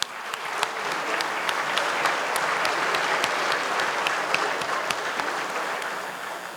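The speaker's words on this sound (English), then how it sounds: "So let's give them a big welcome round of applause." Audience applause welcoming a group of recently arrived Syrian refugees at a gathering, a steady dense wash of clapping from a sizeable crowd that holds for several seconds at even loudness.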